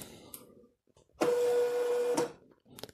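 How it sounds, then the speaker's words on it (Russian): An Xprinter XP-365B label printer powers on and auto-calibrates, giving a loud steady motor whir with a sustained tone lasting about a second, then cutting off. Faint clicks come before and after. "Так, включаем принтер."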